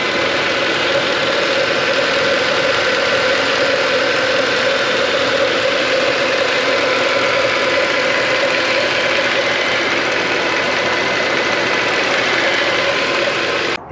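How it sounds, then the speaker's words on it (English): A 6.2-liter M156 V8 in a Mercedes ML63 AMG idles steadily and loudly for the whole stretch, a continuous mid-range engine hum with no talking, cutting off abruptly at the very end. "I'll let you guys hear it run for a second here, and then we'll go ahead and shut it off"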